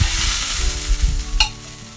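Buffalo steaks searing in a hot pan, pressed against its edge: a continuous close hiss of fat and oil with low thumps and one brief bright clink.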